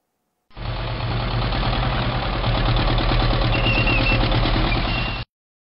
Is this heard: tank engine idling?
yes